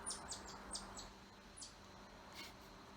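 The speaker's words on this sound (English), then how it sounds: "Pretty bird." A wild bird sings outdoors, a few short, high chirps and whistled notes scattered over a faint steady background hum, fairly distant.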